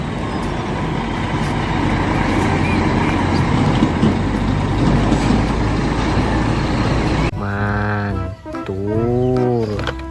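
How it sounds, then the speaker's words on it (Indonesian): A tanker truck's engine rumbles loud and steady for several seconds, then gives way to a run of rising and falling tonal calls that sound close and prominent. "lihat yang ini teman-teman, ada mobil truk tangki"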